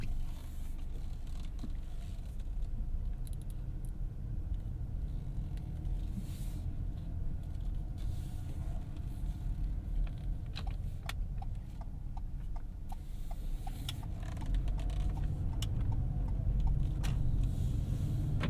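A 2021 Ford Bronco Sport Big Bend driving, heard from inside the cabin: a steady low road and engine rumble with faint ticks and creaks over it, swelling slightly louder near the end.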